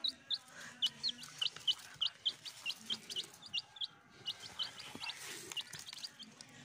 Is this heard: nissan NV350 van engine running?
no